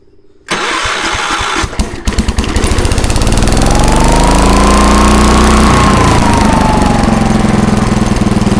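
Small engine on a garage project machine starting after a few pulls, then catching and running loudly at half throttle with a steady chugging rumble and rising whine, close up and alone.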